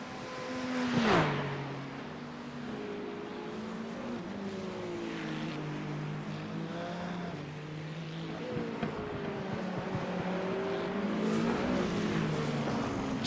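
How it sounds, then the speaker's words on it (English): A Ferrari race car passes during Le Mans 24 Hours qualifying, its engine note swelling and then dropping in pitch as it goes by, followed by a sustained, fairly distant engine drone with shifting tones. "Through comes the Ferrari Rosso now into the back half of the circuit to just try and take on and get that pole position back."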